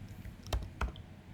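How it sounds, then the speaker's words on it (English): A computer keyboard is typed on up close, with two quick, distinct keystrokes against a quiet room hum. "we can start typing in the name of a country that is of interest to us"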